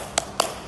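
A primary school class does a rhythmic energy clap in the classroom: two quick, light claps about a fifth of a second apart, faint and close.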